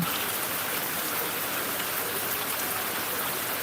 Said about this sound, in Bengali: অসম্ভব সুন্দর মনে হচ্ছে আজকের এই বৃষ্টিময় পরিবেশটি